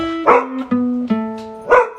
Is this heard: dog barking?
yes